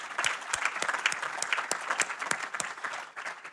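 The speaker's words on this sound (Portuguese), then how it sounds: "Uma salva de palmas para elas." Audience applause at a book launch event in Porto, a steady patter of many hands clapping at moderate volume with no voices over it.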